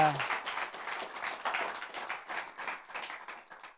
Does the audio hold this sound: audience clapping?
yes